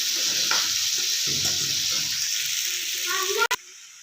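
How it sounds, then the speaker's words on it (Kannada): Onions sizzling and frying in a pan while being stirred, a steady bright hiss with scraping stir strokes, cut by a sharp clatter near the end, with a voice speaking faintly under the sizzle. "ಚೆನ್ನಾಗಿ ಐದು ನಿಮಿಷ ಮಿಕ್ಸ್ ಮಾಡ್ಕೊಳ್ಳಿ ಸ್ವಲ್ಪ ಉಳ್ಳಾಗಡ್ಡಿ ಹುರ್ಕೊಳ್ಳಿ"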